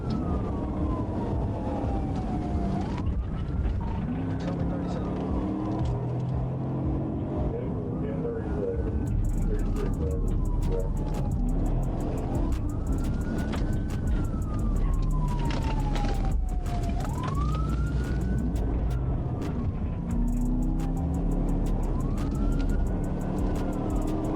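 A police siren wails in repeated rising and falling sweeps during a high-speed chase, with a fleeing car's engine surging underneath and brief talk partway through.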